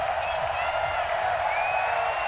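Stadium crowd noise from a Madden football video game, a steady, dense roar with faint cheering, continuous and fairly loud throughout with no clear peaks.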